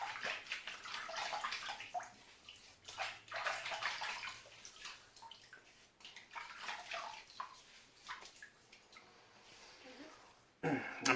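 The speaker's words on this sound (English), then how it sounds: "Let me wet my face, I'll show you." Tap water runs and splashes near at hand while a man wets his face before shaving with a synthetic-bristle brush, steady broadband rushing with sloshing bursts, a brief louder splash at the end.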